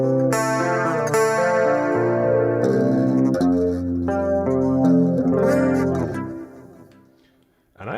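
An electric guitar played through a Line 6 Helix effects-heavy preset rings out in chords and notes with shimmering chorus, distortion and reverb, loud and continuous before fading out near the end, with no talking.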